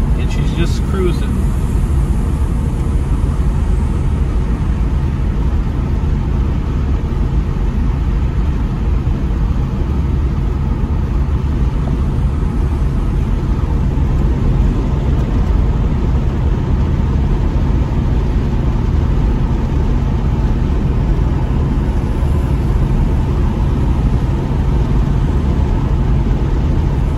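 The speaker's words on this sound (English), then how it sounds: "this is the time of night to drive this car" A Ford Thunderbird cruising along a road at dusk at around 50 mph gives a steady, continuous low engine drone with road and wind noise, heard from inside the car and unbroken throughout.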